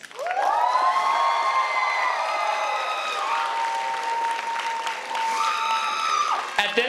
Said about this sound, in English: This is the biggest cheer for the class of 2023.